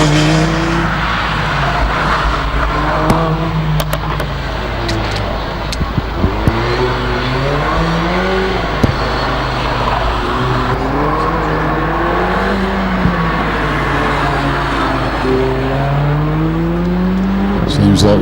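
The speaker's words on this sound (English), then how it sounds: "Got the little A45 AMG of Jonathan March making its way to the top of the hill" A Mercedes A45 AMG charges up a hillclimb course, its engine rising through repeated gear changes with sharp revving sweeps and pops, loud and close, while a commentator talks over it.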